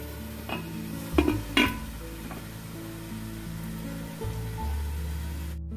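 Andhra-style fish curry, chepala pulusu, is stirred in a pan. A few clear scrapes and knocks of the utensil sit over a soft steady sizzle, close by, with no talk.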